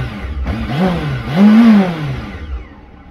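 Carbureted Honda CB 600F Hornet motorcycle, nearly 20 years old, revving close by: two rising-and-falling engine swells, the second louder and higher, then settling back toward idle.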